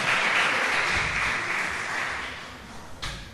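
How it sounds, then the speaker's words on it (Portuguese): A church congregation breaks into applause, a broad, continuous wash of clapping that stays loud before slowly easing, with no voices over it. "Dê ao Senhor isso, uma linda salva de palmas"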